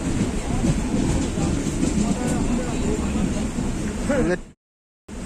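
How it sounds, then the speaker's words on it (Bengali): Loud, continuous rumble and rattle of a fast-moving Duronto Express passenger train from Kolkata to Bangalore with clattering wheels, cutting off abruptly near the end. "মানে ট্রেন কিন্তু ছুটছে কিন্তু পুরো ঘোড়ার বেগে"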